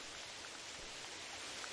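Steady hiss of rain on a mountainside in the hunting game theHunter Classic, broadband and constant for the whole stretch, fairly quiet with no voices.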